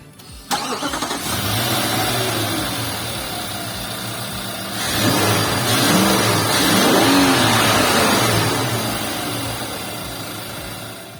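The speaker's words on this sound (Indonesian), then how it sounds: "kayak apa sih suara mesin V8 5600 cc-nya? Yuk, foot on the brake. Kita coba start up dulu." A 2022 Nissan Patrol facelift's 5600 cc V8 cranks and fires up, then settles into a deep, loud idle with a swelling rev in the middle before easing back down.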